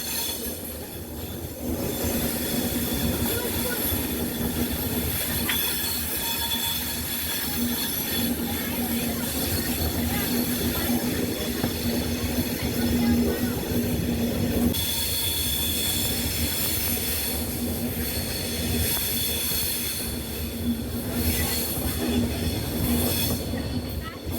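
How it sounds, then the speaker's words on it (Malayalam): The Thiruvananthapuram North–Mysuru Express rolls into platform two at Kollam Junction railway station, a loud, continuous rumble of wheels on rails with sustained metallic squealing throughout. "അങ്ങനെ കൊല്ലം junction railway station platform number ടുവിലേക്ക് Thiruvananthapuram north Mysore express കയറുകയാണ്"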